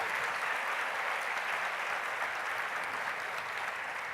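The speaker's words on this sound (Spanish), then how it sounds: "Despidámosles a ellos con un aplauso" Steady congregation applause during a church service, a soft, even wash of many hands clapping for people about to be baptized, heard at a moderate distance with no talk over it.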